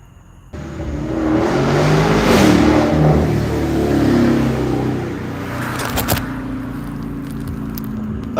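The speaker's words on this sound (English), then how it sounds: "Go on down the road, baby. With that loud ass, unnecessary ass car. Sound like a motorcycle." A loud car engine revs and roars away down the road, its sound swelling then fading, with a rough crackling exhaust note reminiscent of a motorcycle.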